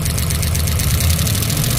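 Rebuilt 1967 Pontiac Tempest engine running close and loud, a brief steady rev with a rough, ticking undertone from lifters that have not yet filled with oil.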